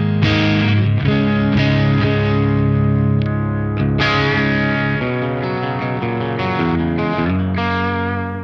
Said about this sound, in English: But let me give you a sound of the guitar.